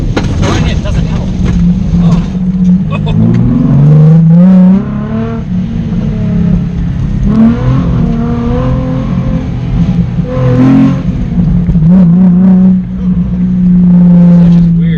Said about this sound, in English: It's a rally car.